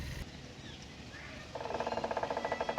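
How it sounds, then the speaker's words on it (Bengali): Bamboo stems rub together in the wind at the Botanical Garden in Kolkata, giving a rhythmic, pulsing creak that starts partway through over a soft outdoor background. "বাতাসের কারণে খুব সম্ভবত বাঁশ গাছগুলো নিজেদের মধ্যে ঘষা লাগছে, তার কারণে এরকম একটা ধরনের শব্দ হচ্ছে।"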